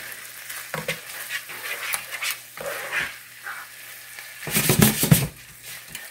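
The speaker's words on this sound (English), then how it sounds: "Now we're going to let this simmer." Sloppy joe meat sauce simmers in a pan for a spaghetti squash bowl, giving a steady low sizzle and bubbling that swells into louder crackling bursts near the end, with no talking.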